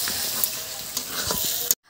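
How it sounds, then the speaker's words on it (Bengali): Meat sautés in a hot pan with a dense, close sizzle as a spoon stirs and scrapes it in quick strokes, a few sharper knocks against the pan, then the sound cuts off abruptly near the end. "এই দেখো এখনো মাংসই কষাচ্ছে"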